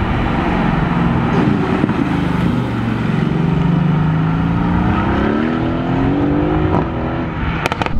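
A Mercedes-AMG GT C sports car with a 557 hp engine roars loudly and steadily, its engine note rising and falling as it revs under load, close and dominant with no talk.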